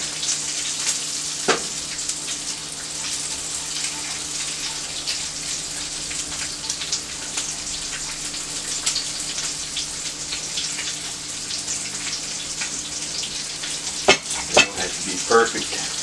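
Burger patties sizzle steadily in a skillet, a constant bright hiss with faint crackles throughout, a few louder pops and taps near the end, no talking.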